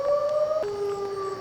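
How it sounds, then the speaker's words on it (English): A noontime civil defense siren wails steadily at a distance, its sustained tone dropping in pitch partway through and holding, moderately faint and alone with no voices. "That's what that siren is, in case you happen to be wondering about that."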